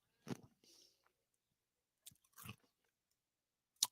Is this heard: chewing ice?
yes